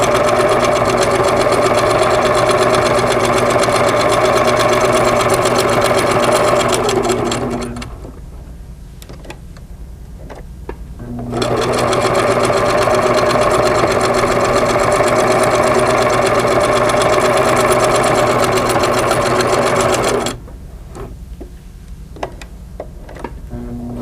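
A Singer sewing machine stitching quilt fabric, running in two long, steady, loud bursts of rapid mechanical clatter separated by a quiet pause.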